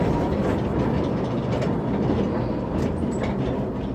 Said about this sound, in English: riding a straddle antique train car down into a mine